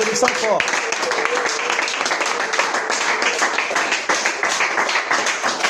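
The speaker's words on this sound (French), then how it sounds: "Applaudissons fort." A church congregation claps loudly and fast during a revival service, a dense, continuous burst close by, with a voice calling out over the start.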